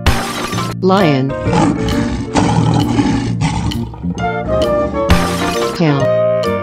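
A lion roars loudly over busy music and crashing effects, forming a dense, continuous blast of sound in a children's animal cartoon.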